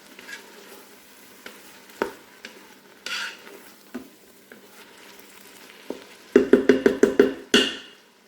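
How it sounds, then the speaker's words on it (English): A utensil scrapes and clinks against a pot as garlic sizzles, ending in a quick rapid series of taps, close and clear. "we're just going to give it a quick stir"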